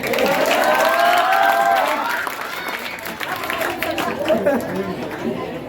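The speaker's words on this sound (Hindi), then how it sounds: "ताली बजाने के लिए बहुत अच्छा लगता है" Audience at a school award function and topper celebration, crowd chatter with a wash of clapping and cheering throughout, a voice rising over the start, busy and fairly loud.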